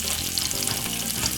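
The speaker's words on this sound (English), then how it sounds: "pop a little bit of olive oil inside of the frying pan like this" White onion sizzles and fries in olive oil in a hot frying pan on the stove while cooking Jamaican corned beef, a steady, close, crackling sizzle with no voices.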